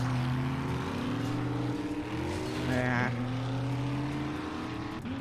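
Car engine driving in the game 7 Days to Die, a steady droning hum with shifting tones and a brief rising whine midway, continuous and fairly close.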